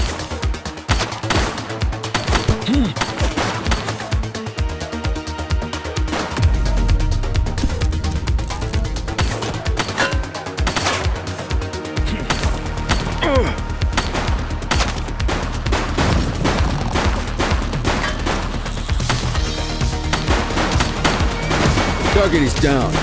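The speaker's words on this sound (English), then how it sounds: "He's shooting!" Heavy, sustained gunfire in the police video game The Precinct, dense rapid bursts blending with game music and effects, loud and nearly continuous throughout.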